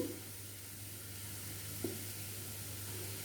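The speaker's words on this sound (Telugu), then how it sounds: "కారం బాగా కలిసేలాగా తిప్పుకొని" Carrot fry with chili powder stirred in a pan, a quiet low sizzle with one brief scrape of the spoon midway.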